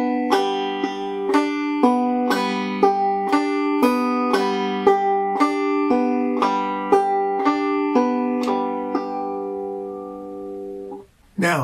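Banjo picked in a drop-thumb 1-2-3-5 pattern, the finger shifting from the first to the third string, rings out alone as a steady run of clear plucked notes with a lingering tonal drone, fading near the end.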